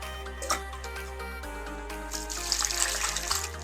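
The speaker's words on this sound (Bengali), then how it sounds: "বারবার জল দিয়ে ধুয়ে নেব।" Water trickles and splashes steadily as it is poured over grated ash gourd pulp to rinse it. The flow is fairly soft and continuous, with a faint tonal hum running underneath.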